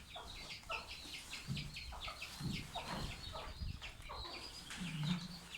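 Chickens on a farm cluck and call in short repeated bursts, fairly quiet and close, with a few low rustles and a brief flutter of wings between the calls.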